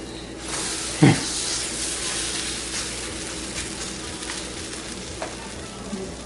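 Food frying in a pan right after being flipped, giving a steady close sizzle and hiss with one brief clunk near the start.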